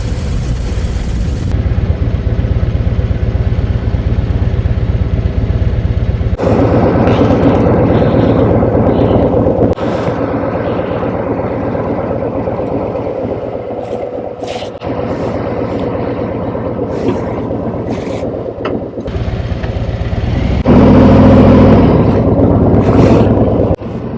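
A powerful 2024 Harley-Davidson Road Glide motorcycle engine rumbles steadily, rising in loud surges and easing back, close by and sustained with no voices.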